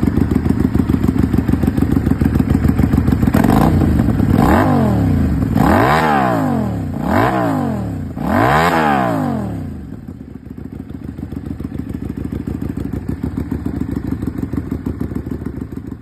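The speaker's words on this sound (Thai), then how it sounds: "ทีนี้เราลองไปฟังช็อตสไตล์แบบใส่จุกลดเสียงกันว่ามันจะเดือดอะไรเร้าใจอยู่ไหม" A Keeway V302C motorcycle with a shot-style exhaust fitted with a silencer plug revs loudly and up close, with four or five rising-and-falling throttle blips over a steady idle that settles back to a rumble.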